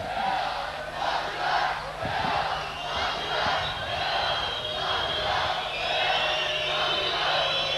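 Efes Pilsen basketball fans at a 2001 final game against Ülkerspor roar and chant in a sustained, rhythmic crowd surge that fills the arena, steady and loud throughout with no clear single voice.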